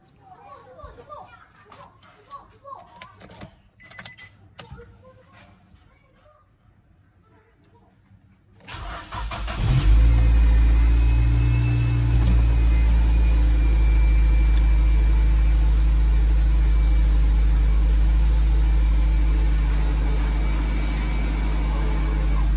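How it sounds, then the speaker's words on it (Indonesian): A Nissan Grand Livina engine with a rough-running noise turns over and catches, then settles into a steady, loud idle that continues to the end, after some quiet shuffling and faint voices. "Kita akan hidupkan mobilnya."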